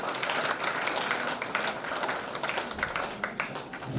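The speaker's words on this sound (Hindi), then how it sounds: "जोरदार तालियों से सभी शिव शक्तियों का स्वागत।" An audience at a Brahma Kumaris Navratri spiritual program in Bhopal claps to welcome guests, a busy stream of close hand claps with sharp individual slaps standing out.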